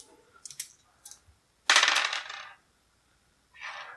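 Small six-sided dice from a TMNT HeroClix Mouser Mayhem starter set roll on a hard surface: a few quick light clicks, then a louder, longer clattering rattle, and one more short rattle near the end, close and with no talk.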